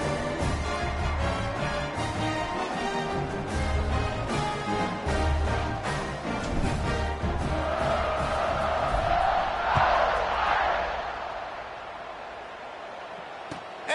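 Stadium crowd roaring in a college football video game before kickoff, a steady dense mass of cheering and shouting that swells louder near the end, with a faint voice at times.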